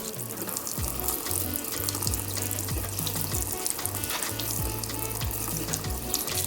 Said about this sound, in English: and we're going to rinse the soap out.